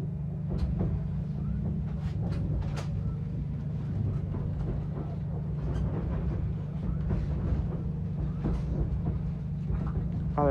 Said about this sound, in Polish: Ale fajny ten pociąg.